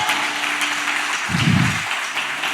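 A church congregation applauds in a steady, even round of clapping, with a brief low rumble midway and no clear voices over it.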